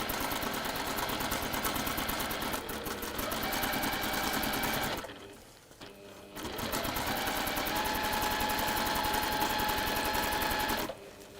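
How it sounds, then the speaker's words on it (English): A sewing machine stitching fabric runs steadily and close, with a fast mechanical whir. It stops briefly partway through, then resumes, with no talk. "you're always just sewing on that straight line"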